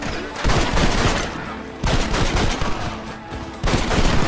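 Rapid bursts of gunfire in a Red Dead Redemption shootout, loud and dense, with three heavy volleys separated by brief lulls of continued shooting.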